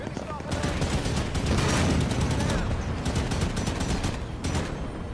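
Rapid automatic gunfire from the Halo 5: Guardians video game, dense bursts of overlapping shots rattling steadily for several seconds at close range, with a voice talking over part of it.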